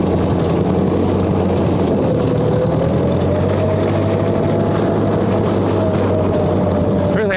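Engine of a 1958 Ford Powermaster tractor with a clogged carburetor, plowing snow, a loud, steady, close rumbling drone that holds constant throughout.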